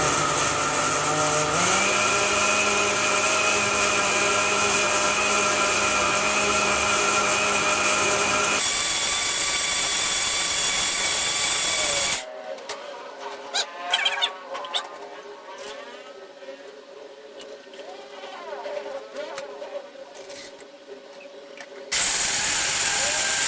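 An electric blender grinds peanuts into juice with a loud, steady whine that shifts pitch as the load changes. It stops abruptly, leaving quieter scraping and handling noises, then starts up again at full volume.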